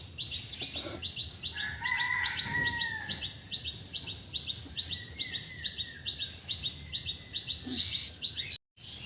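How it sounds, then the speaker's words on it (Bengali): Birds chirp around a village house: a steady, evenly spaced series of sharp, high tweets with a few lower calls early on, over a soft background of insect buzz. "চারপাশে পাখির ডাক ওই যে পাখি আসছে আমার সাথে গল্প করতে"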